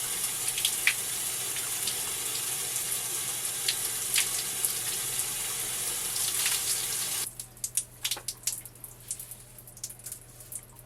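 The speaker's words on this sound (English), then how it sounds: "Hair is rinsed out." Running water from a sink tap rinses hair, a steady hiss for several seconds that cuts off, leaving scattered drips and faint handling noises.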